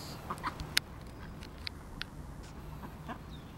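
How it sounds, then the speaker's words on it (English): Waterfowl at a pond in Kuala Lumpur, locally called English ducks or geese, give a few short, sharp clucking calls over a low, steady outdoor background hum. "Here comes the geese."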